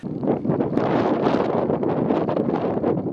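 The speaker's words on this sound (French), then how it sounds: "Je me mets à l'abri du vent parce qu'il y a quand même une belle petite brise" Steady wind gusting across the summit of the Grand Taillefer mountain, a loud continuous roar buffeting the microphone throughout with no pauses and no voices.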